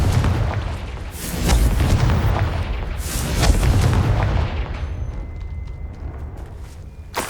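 Repeated booming blasts from the Confringo explosive spell in the Hogwarts Legacy video game, several heavy bursts in quick succession that fade into a quieter tail near the end.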